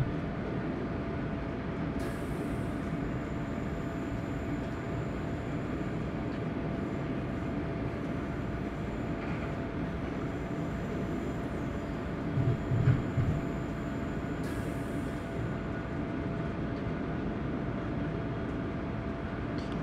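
A Taurus electric locomotive from a train simulator game runs steadily through a snowy winter route toward Salzburg, with a continuous low rumble and faint hum, plus a brief knock of wheels or couplings midway.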